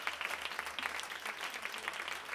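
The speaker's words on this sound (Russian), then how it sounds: "Я ему передам ваши аплодисменты" Audience applause at a drummer's anniversary performance, a steady wash of many hands clapping, moderately distant and continuous throughout.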